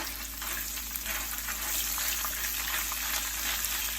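Chopped onion cooks with salt in a hot pan for chilaquiles en salsa verde, giving a steady, dense sizzle that stays even and close throughout with no talking.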